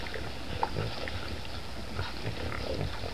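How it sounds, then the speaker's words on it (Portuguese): A large herd of thirty to forty white-lipped peccaries in the wild grunts and snuffles continuously, a dense low chorus of overlapping calls close by with rustling underneath. "Este bando de porcos deve ter aproximadamente de 30 a 40 indivíduos."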